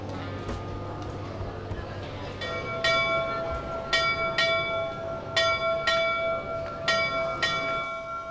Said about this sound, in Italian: Le campane hanno sempre un sapore di pace